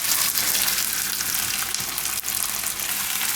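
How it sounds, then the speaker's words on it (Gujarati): Pieces of taro (arbi) fry in hot oil with a dense, steady crackling sizzle, close and loud throughout with no speech. "તો થોડીક વાર તેલમાં ફ્રાય કરી લઈને એટલે એની ચીકાશ ઓછી થઈ જાય"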